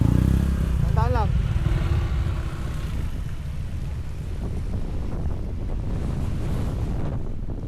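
Strong wind on a mountain roars and buffets the microphone with deep rumbling gusts, while a brief voice cuts in near the start.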